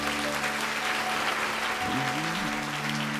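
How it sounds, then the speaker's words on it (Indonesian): Church congregation applauding together throughout, a steady dense wash of clapping with some faint tonal music or voice running underneath. "kasih tepuk tangan bagi Tuhan."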